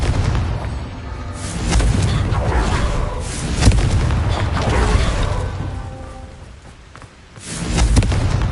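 Confringo fire spell exploding in the Hogwarts Legacy video game: loud booming blasts and rumbling thuds layered with game effects, sustained over several seconds with a brief lull before a final burst.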